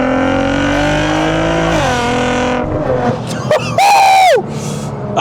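A Nissan GT-R V6 engine revs with loud sustained harmonics, then drops in pitch through downshifts, with sharp blips and a rising rev burst near the end, heard close and alone.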